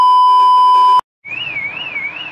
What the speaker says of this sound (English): I don't understand why the alarm is going off.